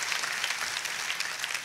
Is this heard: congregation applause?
yes